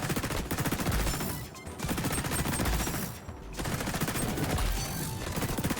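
SMG gunfire in the video game XDefiant, with dense rapid automatic bursts and brief pauses between strings, loud and continuous.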